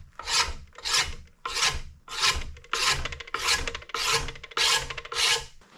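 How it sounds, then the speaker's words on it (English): A blade scrapes the coating off a wooden axe handle in seven rhythmic, rasping strokes, each about half a second long with short pauses between, close and clear. "I'm going to scrape off this coating, get back down to the bare wood"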